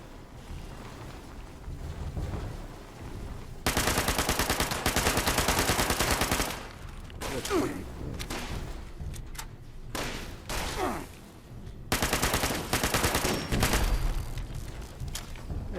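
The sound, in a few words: gunfire in the video game Fallout 76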